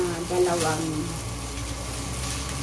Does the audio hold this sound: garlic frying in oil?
yes